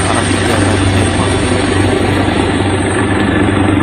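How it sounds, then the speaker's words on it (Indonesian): Helicopter evacuating Nepalese government officials, a loud, steady rotor and engine drone with a constant low thump, close and continuous throughout with no talking. "Dievakuasi menggunakan helikopter para pejabat Nepal."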